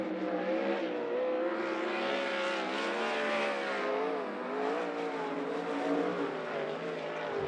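A pack of 410 sprint cars roars past on a dirt track, engines revving and wavering in pitch, loud and continuous as they race.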